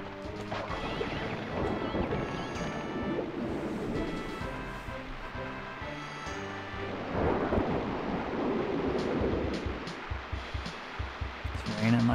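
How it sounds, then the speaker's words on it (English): Rain and thunder from the video game Crash Bandicoot 3: Warped, a steady wash of rainfall with rumbling thunder cracks, under the steady sound of game music and effects. "It's raining like we're in it."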